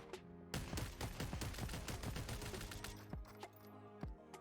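A long sustained burst from an M60 machine gun in the PUBG video game, rapid close shots rattling for several seconds before a few spaced final rounds, with no talk.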